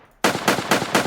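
Four sharp pistol gunshots from an Unreal Engine 4 weapon sound effect fire in quick, even succession after a brief quiet start, each shot loud and close.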